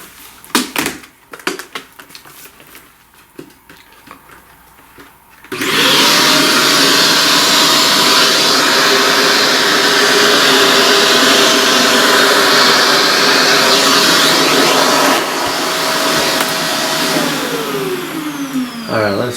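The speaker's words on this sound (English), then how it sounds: "let's vacuum all this crud so far" Vacuum cleaner sucking up loose pastel dust from a pastel flower drawing, starting abruptly after some quiet handling, then a loud steady whine that holds for about ten seconds before winding down.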